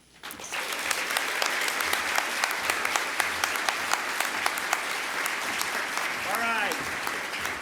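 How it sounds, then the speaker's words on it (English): Sustained applause from a large audience at an awards and recognition dinner fills the room steadily for several seconds, with a voice faintly heard over it near the end. "But don't stop clapping"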